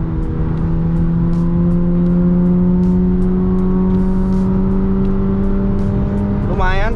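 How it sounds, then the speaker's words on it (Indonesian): A tuned Honda Jazz GK5 accelerating on a toll road, its engine drone rising steadily in pitch through the gears from inside the cabin, loud and continuous with road noise underneath. "Kita coba aja akselerasi dari yang kemarin itu gua tune up ya"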